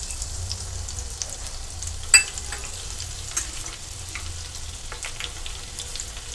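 Crushed garlic cloves fry in hot oil, a steady close sizzle and crackle with scattered pops, one sharper spatter standing out partway through.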